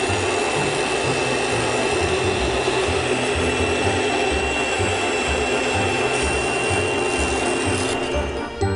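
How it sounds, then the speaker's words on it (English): A Gemini Taurus 3 diamond ring saw cutting, with a continuous loud grinding whine and a rhythmic rubbing pulse that holds steady throughout and then briefly dips near the end. "the ring blade grinds as it cuts"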